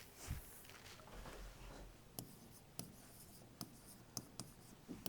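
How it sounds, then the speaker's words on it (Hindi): Pen or pencil writing on paper during a data-interpretation lesson, with a soft continuous scratch and several sharp taps and strokes spaced through the clip, faint and close with no talk. "तो हम इसको छोटा छोटा थोड़ा लिखते हैं।"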